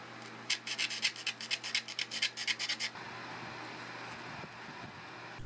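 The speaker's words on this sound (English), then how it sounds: "so I can cut out the slots for the struts." Slots for the struts are cut into the wing fairing of an 85-inch Seagull Models Cessna Grand Caravan EX model airplane, a rapid run of about a dozen rhythmic rasping strokes, close and crisp, then quieter handling noise.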